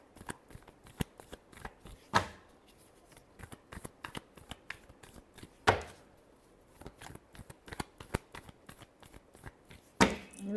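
A deck of tarot cards is shuffled by hand in a run of quick, crisp flicks and slaps, with a few louder riffles standing out, close and alone without talk.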